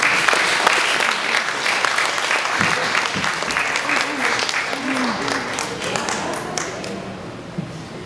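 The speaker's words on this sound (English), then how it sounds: "And let's give a big round of applause to Diego and Jao Mapa." Event audience applauding warmly for a pair of guests, sustained dense clapping that slowly tapers off, with a few voices murmuring underneath.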